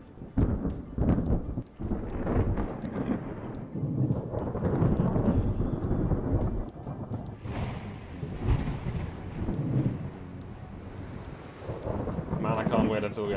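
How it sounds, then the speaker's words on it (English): Slowed, time-dilated thunder rumbling through a naval battle in Ultimate Admiral: Dreadnoughts, a long, loud, low roar that swells and churns continuously, with windy noise and heavier bursts layered throughout. "Time-dilated thunder sounds very weird."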